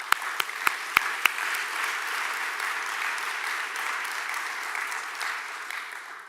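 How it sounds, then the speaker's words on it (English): Applause from an audience at an investment conference in Jamaica, opening with a few sharp claps and swelling into steady, sustained clapping that continues to the end, with no voices over it. "A round of applause."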